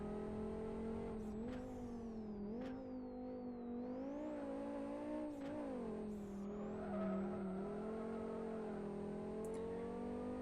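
Five-cylinder car engine in the racing game Live For Speed, an Audi Quattro-like car, droning steadily throughout with rising and falling revs through gear changes, loud and close.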